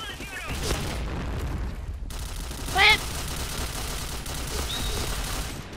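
Grenade blasts and gunfire echo through the video game Point Blank, with dull booms and a crackling barrage layered under a steady din of game noise and a voice.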